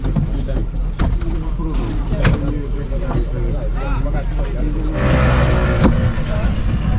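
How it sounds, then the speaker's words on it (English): Outboard engine of a wooden longboat idling at a Gambian jetty before the trip to Jinack Island, a steady, loud low rumble running throughout beneath crowd chatter and voices, swelling louder near the end. "Okay, so the engine's running."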